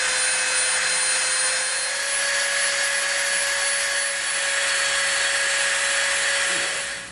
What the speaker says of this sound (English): Now let's smooth it out with our Dremel.